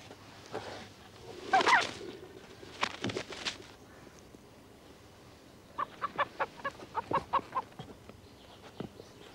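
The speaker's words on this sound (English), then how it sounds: "Give me the chicken." A live chicken clucks in a series of short, rapid calls, preceded by a louder burst of squawking and flapping, all fairly close in an indoor room with no talk.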